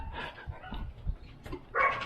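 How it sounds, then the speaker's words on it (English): Several dogs barking in a home on a quiet Sunday, a few faint, short barks and yips heard from a distance, with a door moving nearby. "Oh, you hear dogs barking, of course."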